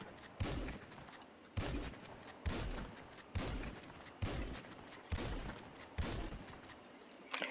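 A pump-action shotgun fired repeatedly in the video game GTA V: seven or eight loud booming blasts at a steady pace about a second apart, each with a short decaying tail, no talking.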